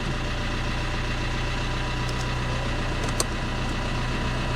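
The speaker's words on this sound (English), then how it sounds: "It's just been sat here for months and it fired straight up." A Fiat Panda engine idles steadily just after starting, a continuous low rumble with even vibration, close and alone, no talk.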